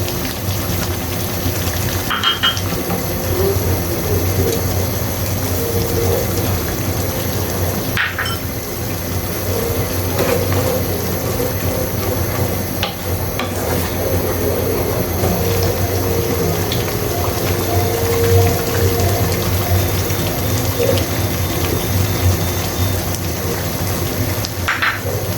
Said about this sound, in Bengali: খুব ভালো মতো করে এটাকে আমি নেড়ে নিচ্ছি।